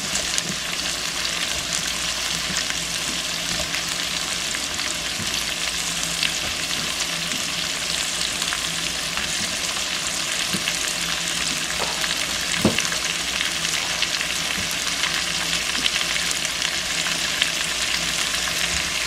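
Sliced courgette sautéing in a hot pan with chicken thighs and vegetables, a loud steady crackling sizzle throughout with a few stirring clicks and scrapes, no voices.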